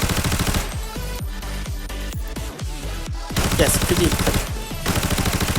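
M4A1 rifle with low-budget mods fired at the new shooting range in Arena Breakout, rapid bursts of loud automatic gunfire with short pauses between strings, while someone talks briefly.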